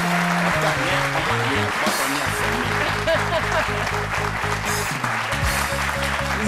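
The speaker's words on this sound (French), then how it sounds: "Merci de l'applaudir très très fort" Audience applause for an Ivorian musician based in France, on a midday TV studio set: steady broad clapping throughout, with background music tones and faint voices underneath.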